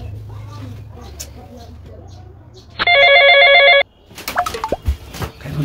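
A telephone rings once in a single loud burst of warbling electronic tones lasting about a second, after a stretch of quiet room noise and followed by handling clatter and sharp knocks.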